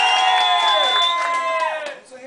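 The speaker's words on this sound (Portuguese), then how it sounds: "Palmas para a vovó Mafalda!" A crowd at the ACAMPA 2010 camp gathering cheers and whoops loudly, with shouting voices layered over the noise. The sound fades toward the end.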